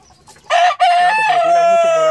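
A fighting rooster crows once, close and loud, a strong drawn-out cock-a-doodle-doo lasting about a second and a half after a faint lead-in.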